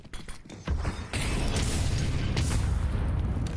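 A grenade detonates in Counter-Strike with a sharp boom, followed by a sustained loud rumbling roar after a brief cluster of clicks and taps.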